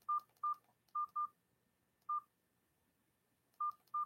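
Seven short touch-tone beeps of a telephone keypad being dialed, clean and mid-loud, in an irregular pattern with a long pause midway, alone against near silence.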